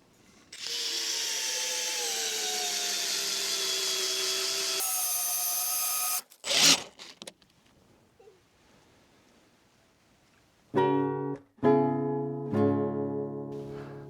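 A power drill whirs steadily and loudly for several seconds, then pauses, followed by shorter bursts of the drill driving screws into wooden roof rafters on a log cabin roof build.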